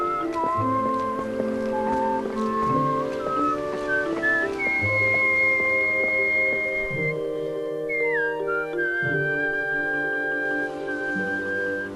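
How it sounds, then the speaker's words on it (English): A person whistles a clear melody along with a video game song, Twilight Princess. The whistled notes ride over steady, layered music, with no talking. "I just love whistling, especially to this song"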